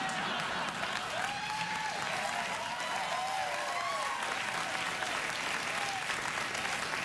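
Studio audience applauding steadily for several seconds on a late-night talk show, dense and even, with a few whoops rising over the clapping.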